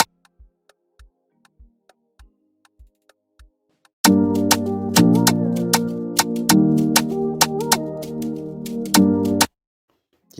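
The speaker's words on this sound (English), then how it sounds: "The snare sounds like this." Layered snare drum sample for an Afrobeat beat in FL Studio: faint quiet ticks at first, then a loud, bright pattern of crisp snare hits repeating over a sustained backing until it cuts off.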